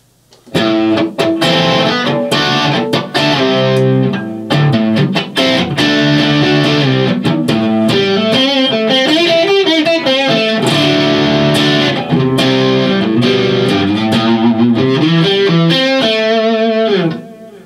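Electric guitar through a Fulltone OCD overdrive pedal playing loud, gritty riffs and sustained chords, continuous for most of the stretch with no voices.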